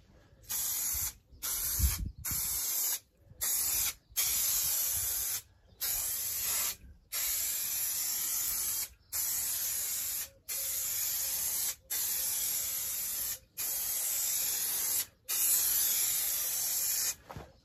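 Aerosol contact adhesive hisses in a dozen or so short bursts onto the droopy headlining of a Mercedes R170 SLK, each spray lasting about a second with brief gaps between, close and loud.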